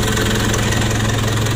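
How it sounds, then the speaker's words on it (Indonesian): A close engine idles while it warms up, giving a loud, steady, throbbing hum with a faint knocking pulse and no talk over it. "Untuk mesinnya kita panasi dulu."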